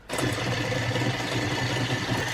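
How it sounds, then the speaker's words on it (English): An electric hand whisk runs continuously in cupcake batter, a steady close motor whir that starts abruptly and holds level for a couple of seconds with no talk. "I'm just going to grab my electric hand whisk again and just give that one tiny whisk"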